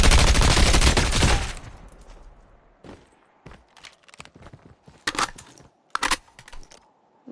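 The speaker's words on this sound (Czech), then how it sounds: "A někdo střílí." A dense burst of rapid gunfire in a video game opens, then scattered sharp shots and thuds follow at irregular intervals, some loud and close, others fainter.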